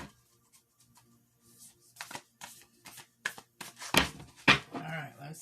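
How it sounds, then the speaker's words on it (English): A thick 68-card spirit animal oracle deck being shuffled by hand, with a quiet start and then a run of crisp riffling bursts that grow louder and denser, and a little talk mixed in. "Alright, that's like an amazing shuffle."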